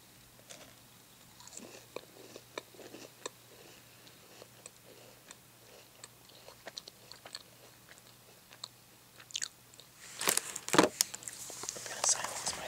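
Blackberry-flavored crackers being eaten close to the mic in a whispered ASMR setting, with soft crunchy bites and chewing scattered throughout, growing louder and crinklier toward the end.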